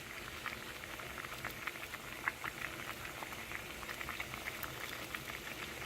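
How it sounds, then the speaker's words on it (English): Water at a steady rolling boil with a trading card slab dropped in, a dense continuous bubbling and popping patter that stays even and fairly close throughout. "threw it into water that was already boiling"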